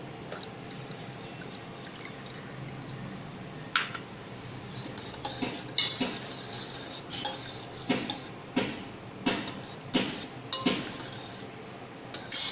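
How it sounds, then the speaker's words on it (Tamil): Coconut milk is poured into a pan and stirred with a metal utensil for coconut pudding, giving repeated scraping and clinking against the pan, with faint sizzle in the background and no talking. "இதில் தேங்காய் பால் சேர்த்துக்கிறேன்"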